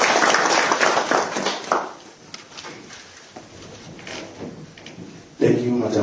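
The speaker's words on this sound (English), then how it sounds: "Can we clap for him?" Audience applause at a business tobacco conference at Rainbow Towers in Harare, loud and dense at first, fading over about two seconds into a quiet room before a voice begins near the end.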